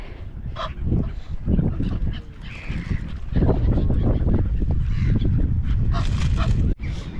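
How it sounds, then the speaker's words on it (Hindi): Ducks and other waterfowl on a lake in Richmond Park, London, honking and quacking at close to middle distance over a steady outdoor background, with a dog barking at times. "ये देखो इस साइड कितने सारे डक्स हैं।"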